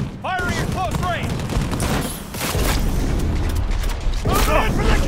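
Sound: gunfire at close range, Cyberpunk 2077 video game

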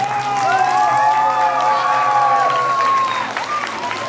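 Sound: audience applause in a concert hall

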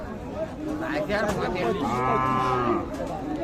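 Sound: cow mooing at cattle market

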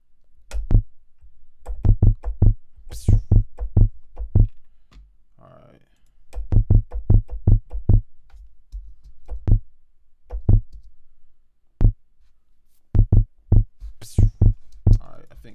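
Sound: kick drum made from vocal sample in Ableton Live

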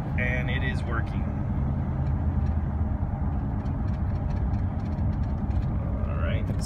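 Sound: 1999 Dodge Roadtrek motorhome driving on cruise control

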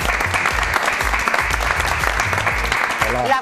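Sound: studio audience applause

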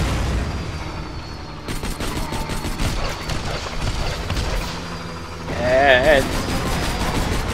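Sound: gunshots in the video game Borderlands 2

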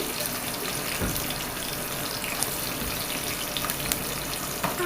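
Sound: onions frying in hot oil in a pan

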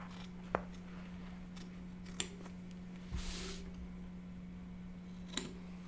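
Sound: applique scissors trimming excess fabric

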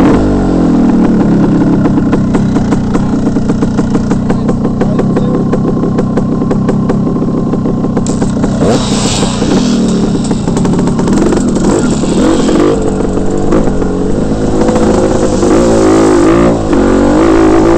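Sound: motorcycle engine idling and revving

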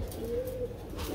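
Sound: female doves cooing

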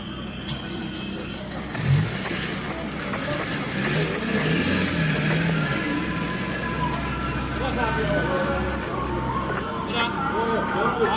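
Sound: car being moved out from under snow-felled tree

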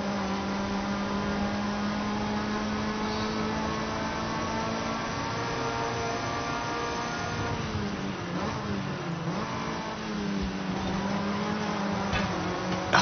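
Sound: Mazda MX-5 ND engine during a gear shift in a racing game

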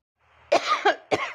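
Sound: coughing from dust

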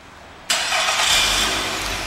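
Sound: 2013 Nissan Altima engine starting by remote start

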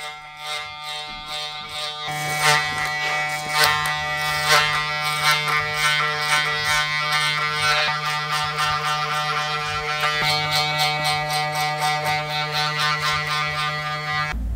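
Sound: electric hair clippers cutting a low fade

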